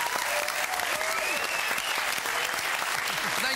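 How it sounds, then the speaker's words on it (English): A studio audience applauds at the close of the 2008 Christmas special of the Spicks and Specks music quiz show, a dense, steady wall of clapping that holds for several seconds with a few voices calling out over it. "Could we also have a massive round of applause for all the special guests that took part in tonight's show?"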